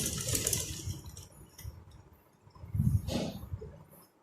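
A sewing machine stitches a shalwar in short, close mechanical bursts, with a pause mid-way and a louder run of rapid whirring and clicking near the end.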